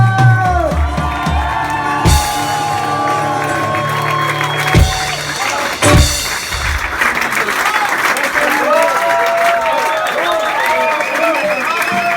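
Applause from a concert audience at the end of a show by a duo in Geneva, a dense sustained patter of clapping with scattered whoops and cheers, loud and close. Someone speaks over it at points.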